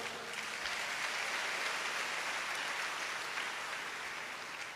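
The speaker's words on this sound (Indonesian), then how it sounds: "Tepuk tangan yang meriah." A church congregation claps at an Indonesian worship service, producing a soft, even patter of applause that runs continuously at moderate volume with no voices on top.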